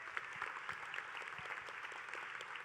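Applause from the audience at a fashion design competition's runway show, honouring the finalists, a steady, fairly faint patter of many hands that holds evenly throughout with no voices over it.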